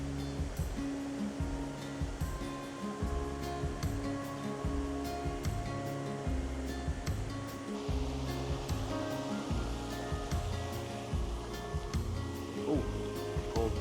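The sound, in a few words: river flowing along the Kibune-Kurama trail riverbed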